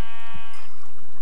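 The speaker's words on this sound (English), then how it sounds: "Sheep, I'm gonna put you out of your misery." A single sheep bleats loudly and alone in Minecraft, a short harmonic cry that fades within about a second.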